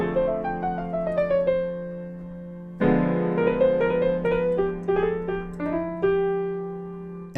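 The piano intro of a song: a slow melody of ringing notes that fade away, a low steady tone beneath, and a fuller passage of chords entering partway through.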